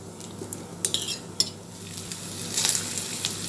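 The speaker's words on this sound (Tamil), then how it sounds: "இப்போ அதே நெய்யில் தேங்காய் சேர்த்துருக்கேங்க அதையும் லைட்டாக வறுத்து எடுத்துக்கலாம்" Grated coconut frying in ghee in a pan after cashews for ghee appam, a sizzle that rises in the last second, with several sharp metal clinks of a spoon against the pan, close and without talk.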